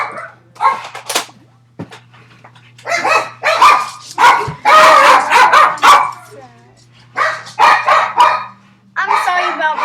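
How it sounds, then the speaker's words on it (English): Pet dogs bark indoors in repeated loud bursts, with yips and a whimper between them, close to the microphone, while a person talks among the barking. "I'm sorry about my dogs."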